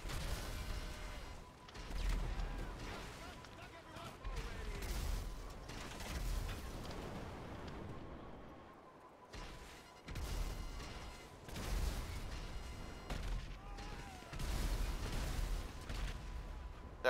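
Missiles launching and blasting in Grand Theft Auto V, with repeated bursts of explosions and crashing impacts across the clip, loud and close, broken by a brief lull in the middle.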